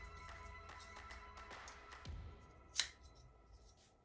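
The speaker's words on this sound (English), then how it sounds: "Of course, you'll need scissors when knitting to cut the yarn." A single close, crisp snip of scissors cutting knitting yarn through quiet background, preceded by soft handling and rustling sounds.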